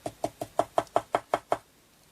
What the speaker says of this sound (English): Give that a bit of a knock.